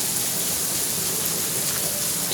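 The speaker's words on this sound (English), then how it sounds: "it's raining in Arizona right now" Steady rain falls during a flash flood warning in Arizona, a dense, even hiss of drops spread across the whole clip with no gaps and no voices.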